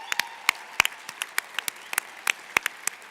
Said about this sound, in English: Can we give everyone a round of applause?